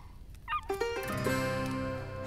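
A cartoon wolf cub whimpers and yips in a short burst of high, wavering cries, close and alone, with a few quick rising squeals at the start.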